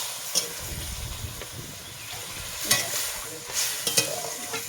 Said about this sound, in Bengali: এখন আমি এটাতে একটু জল দেবো